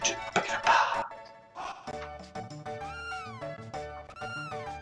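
A cat in the video game Chrono Trigger meows several times, clear and close, with short chiptune-style sliding tones after a few busy, clattering hits at the start.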